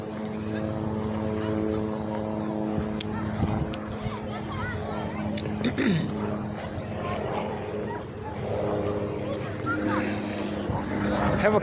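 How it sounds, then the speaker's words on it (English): A helicopter passes overhead above a busy bike trail, its steady, droning rotor hum loud and continuous throughout, with people talking and bike noise beneath it. "Helicopter."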